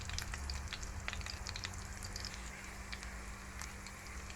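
Cornbeef meatballs fry in a pan over a medium flame, giving a faint, steady sizzle with scattered small crackles and pops and no talking.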